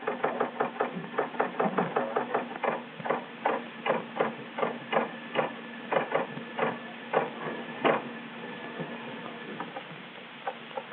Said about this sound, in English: an audio operator analyzes the sounds of the truck engines